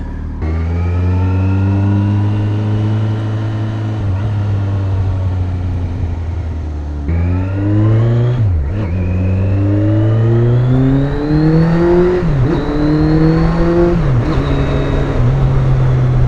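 A Kawasaki Concours 14 motorcycle engine with a Delkevic exhaust, baffle removed, idles deeply, then revs up repeatedly in rising and falling surges, harsh and close throughout.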